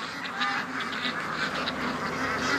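Ducks quack and chatter in a busy flock, a steady overlapping stream of calls at moderate distance with no talk.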